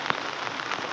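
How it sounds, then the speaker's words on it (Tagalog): Heavy rain pours down as a dense, continuous hiss with a few sharper drop impacts standing out, loud and steady throughout, with no voices. "Dahil sa lakas ng ulan"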